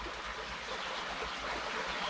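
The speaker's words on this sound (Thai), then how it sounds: "ได้ยินเสียงน้ำไหลจกจกแจ๊กแจ๊ก" Water flows and trickles steadily and close by, a continuous broadband rush with no break and no voices.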